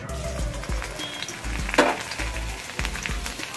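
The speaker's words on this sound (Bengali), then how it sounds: "কড়াইয়ে দিয়ে সেই তেলেই 2 কোয়া রসুন কুচি" Chopped garlic hitting hot oil in a wok after potatoes were fried crisp, a continuous close sizzle with a sharp hiss burst partway through and light stirring taps.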